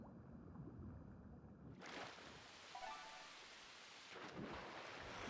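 Rain and rumbling thunder in the underwater video game Endless Ocean: Blue World: a steady wash of rain that swells abruptly into a louder, fuller downpour partway through, with low thunder under it and no voices.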